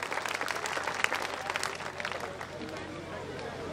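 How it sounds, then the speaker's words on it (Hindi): An audience at a public program breaks into loud applause, a thick wash of clapping with crowd murmur that peaks early and then settles to a steady, slightly softer level. "एक बार आप सभी के लिए जोरदार तालियां हो जाएं।"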